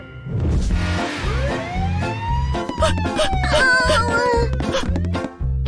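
A wailing emergency siren rises and falls over a steady rhythmic pulsing beat, loud and close throughout, with no talking.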